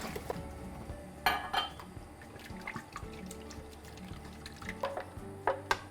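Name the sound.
garlic and spinach puree added to hot pan with ghee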